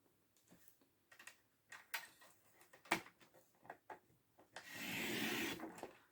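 Paper being cut for a sunflower-themed easel craft folio: quiet, scattered taps and snips give way to a sustained rasping cut near the end, close up with no talking.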